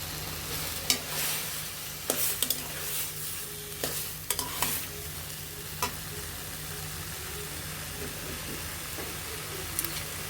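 Ground coriander, turmeric and chili powder fry with sweet potato for a tomato chutney, giving a steady close sizzle broken by scraping stirs and occasional clinks of a spoon against the pan.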